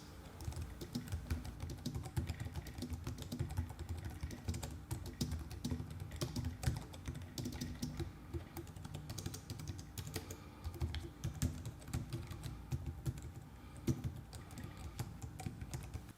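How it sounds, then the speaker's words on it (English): Typing on a Logitech MK470 keyboard with quiet chiclet keys, a steady stream of soft, muted key taps in quick irregular rhythm, close and fairly faint. "let's listen to the sound of the quiet chiclet keys"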